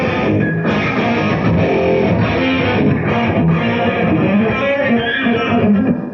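An electric guitar chord phrase in F, echo off, played with distortion: ringing chords and picked notes flowing continuously at strong, steady volume for several seconds.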